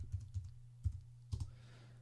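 Short bursts of typing on a computer keyboard while writing in a text editor, a handful of soft, close keystrokes in uneven clusters over a faint low hum, no voices.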